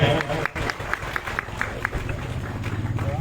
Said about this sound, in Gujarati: આવા વિરળ સંતને જોરદાર તાળીઓના ગગડાથી વધાવો ભાઈ